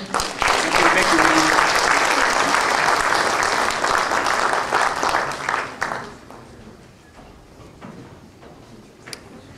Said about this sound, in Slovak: Takže veľký potlesk.